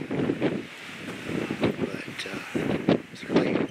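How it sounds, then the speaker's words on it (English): Gusty wind buffets the microphone outdoors at the Silver King mine, rumbling in uneven surges across the whole clip. "Quite windy day today."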